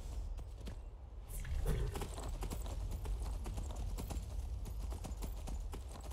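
A saddled war horse in Skyrim walks with steady, distinct clip-clopping hooves close by, keeping an even rhythm over a low ambient rumble.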